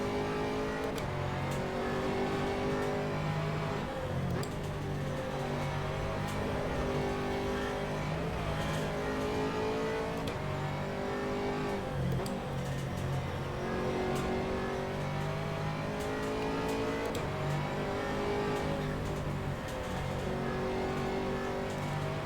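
GT3 race car engines in the rFactor 2 racing simulator roar continuously, revving up and down through gear changes with steady loud engine drone and occasional tire noise, no talking.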